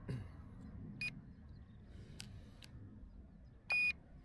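An RC plane radio transmitter, for an F4U V2 Corsair warbird, switching on outdoors with a few short, thin beeps spaced apart and one longer, louder beep, over low wind noise.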